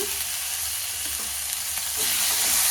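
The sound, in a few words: tomato sautéing with ginger and garlic in a pan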